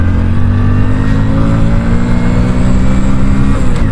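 A modified Hero Splendor Plus motorcycle accelerates hard through the gears, its engine loud and close, rising steadily in pitch with a gear change near the end.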